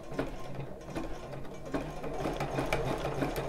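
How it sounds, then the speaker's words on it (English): A sewing machine runs in reverse, backstitching a zigzag stitch over thick, narrow bra fabric, giving a steady, close mechanical whir with a faint rhythmic needle tapping throughout. "put your machine to backstitch"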